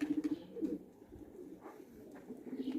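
Pigeons coo in repeated soft, low throbbing phrases, close by, with a few short bursts at the start and end and quieter murmuring between.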